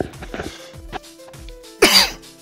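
A person coughs hard once after a small toke from a smoking device, a sudden loud burst with a rasp that fades out. Earlier there are softer throat sounds and breathy noises.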